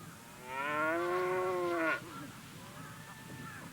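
A cow from a herd near a marsh lets out one long, loud, drawn-out moo that ends abruptly, followed by a fainter lowing call further off over a steady outdoor background.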